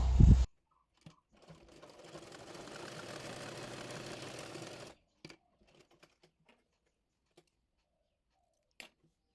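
A sewing machine stitches salwar fabric in one steady run of a few seconds, fairly quiet and close, with brief clicks and handling noises before and after.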